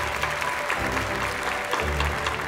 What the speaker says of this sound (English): let's give a round of applause to this beautiful group